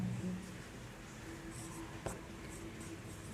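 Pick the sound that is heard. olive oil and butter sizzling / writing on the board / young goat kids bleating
writing on the board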